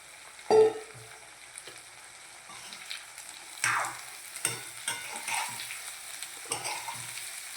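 Kidney beans for rajma dal are stirred in a pan with a sharp clatter at the start, then scattered scraping strokes over a faint sizzle, with no talking.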